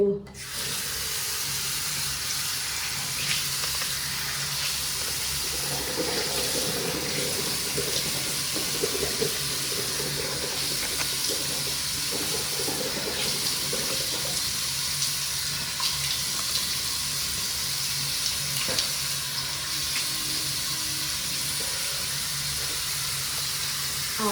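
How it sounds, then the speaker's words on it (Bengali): A running tap in a household sink, with water splashed onto the face in the morning: a steady, close hiss of flowing water throughout, with faint shifts as hands break the stream. "চলো আগে চোখে মুখে একটুখানি জল দিই"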